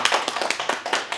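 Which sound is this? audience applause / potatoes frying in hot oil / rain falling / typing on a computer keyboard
audience applause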